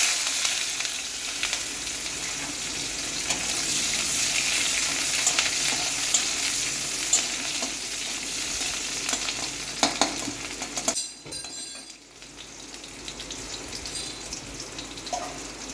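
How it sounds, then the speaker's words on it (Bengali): Chopped onions hit hot oil left over from frying a hilsa fish head, giving a steady close sizzle with stirring scrapes throughout and a brief lull near the end before the frying resumes. "সেই তেলের ভেতরেই আমি দিয়ে দিচ্ছি পেঁয়াজ কুচিগুলো।"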